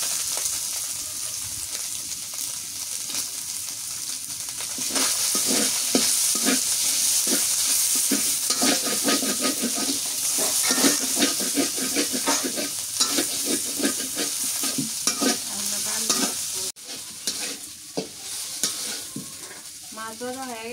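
Onions frying and being stirred in a pan in a home kitchen, a steady loud sizzle with repeated scraping stirs running throughout, alone without talk.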